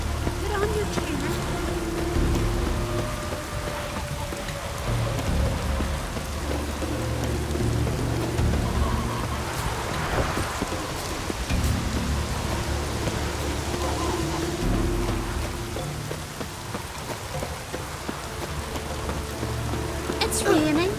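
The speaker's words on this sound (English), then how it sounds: "It's raining." Steady rain pours through The Witcher 3's game world, with a low rumble of thunder swelling near the middle. It continues without a break under intermittent voices and other game sounds.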